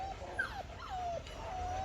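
A wolf-hybrid dog whimpers in a run of thin, high, wavering whines, several drawn-out cries rising and falling over a low steady background hum, fairly close.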